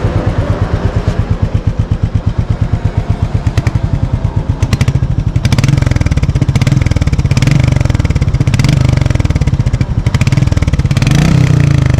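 Royal Enfield Meteor 350 motorcycle with a two-valve pushrod single-cylinder engine, idling with a steady low bassy thump, then revved up to a louder, fuller drone that holds close and steady to the end.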